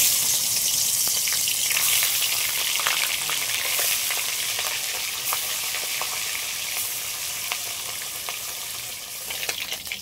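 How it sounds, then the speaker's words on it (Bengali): Red bhola fish fry in hot oil with a loud, close, continuous spitting sizzle that eases slightly over time, with light clinks near the end. "এবার মাছগুলো সব ভেজে নেব"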